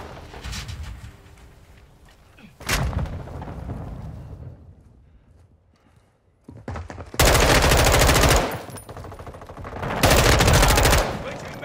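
Automatic weapons fire in the Modern Warfare 2 beta, M4 in play: a single sharp shot, then two long, loud sustained bursts of rapid fire separated by a short pause, with quieter background gunfire earlier.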